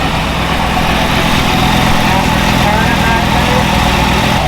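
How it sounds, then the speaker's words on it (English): A Toyota FJ45 rock crawler's engine idles loudly and steadily up close, a dense, continuous rumble that holds without a break. "We're gonna go ahead and fire it up."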